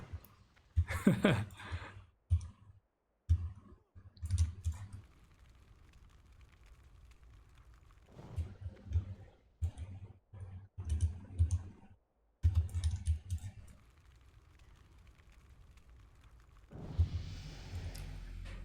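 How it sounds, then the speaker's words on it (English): Loud clacking keyboard typing in bursts of rapid keystrokes with short pauses, close to the microphone; no talking. "excuse my loud keyboard"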